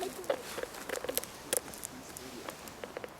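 Rapid faint clicks and ticking chirps from a bat detector come in irregular bursts over a soft hiss, with no talking.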